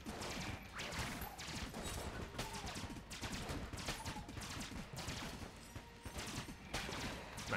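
Rapid, continuous automatic fire from the Void Call assault rifle in the video game Enter the Gungeon, a dense, loud stream of shots with crashing impacts layered over it, lasting throughout without a break.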